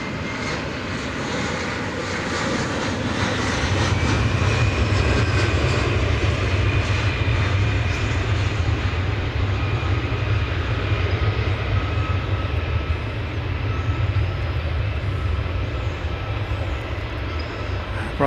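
An airliner takes off from a runway at DFW Airport at daybreak, its jet engine roar building into a loud, sustained rumble with a deep low drone lasting throughout.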